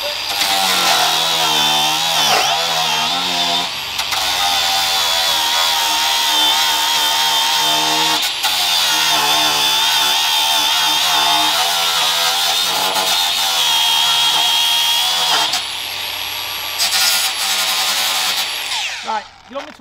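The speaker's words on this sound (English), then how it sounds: "Right, so this is with the grinder." An angle grinder cuts laminate flooring beside a door frame indoors, a loud, close, steady whine running almost continuously with brief dips and pitch shifts, then winding down at the end.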